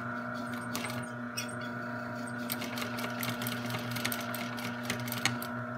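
Sewing machine stitching cushion fabric for an outdoor/indoor cushion, a steady continuous mechanical whir with faint rhythmic clicking, running close and alone throughout.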